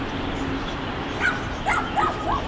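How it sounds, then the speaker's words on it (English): A dog gives a few short, high yips and barks at a distance, three or four quick calls over a low outdoor background hum. "Oh, dog."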